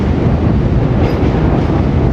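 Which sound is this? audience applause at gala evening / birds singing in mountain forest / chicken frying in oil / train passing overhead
train passing overhead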